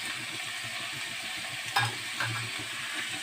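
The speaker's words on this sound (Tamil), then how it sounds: "அதையும் கொஞ்சம் நல்லா மிக்ஸ் பண்ணி விடுங்க" Onions being stirred in a pan for a tomato curry, a low steady sizzle with two short, sharper scraping strokes of the spoon near the middle.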